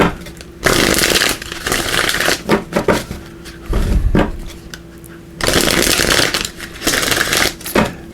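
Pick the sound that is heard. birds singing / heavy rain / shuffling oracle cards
shuffling oracle cards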